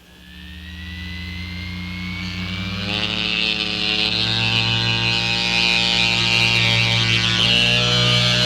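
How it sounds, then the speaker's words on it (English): A human centrifuge in a laboratory spins up with a loud, steady mechanical hum and whine that builds in pitch and intensity, then holds a sustained roar for several seconds. "We duplicate this force in the laboratory by using human centrifuges."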